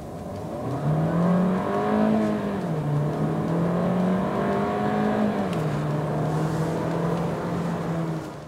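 A Volkswagen Taigo or Seat Arona small SUV accelerates hard from a standstill at full throttle, its engine note rising and shifting in steady sweeps for about eight seconds, close and loud with no talking.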